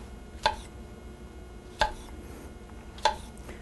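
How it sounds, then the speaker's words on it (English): Knife coarsely chopping mushrooms on a board, three sharp, evenly spaced chops about a second and a half apart, close and crisp over quiet room tone. "I'm just going to coarsely chop these up."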